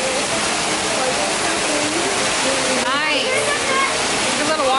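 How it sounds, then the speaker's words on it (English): A small waterfall beside a cave, a loud continuous rush of falling water that fills the whole stretch, with faint voices now and then above it. "It's a little waterfall."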